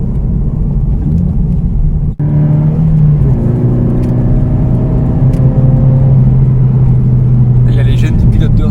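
A Toyota GT86 with a 2.0-litre four-cylinder boxer engine drones steadily from inside the cabin on a test drive, a low sustained hum that shifts pitch midway, with people talking over it.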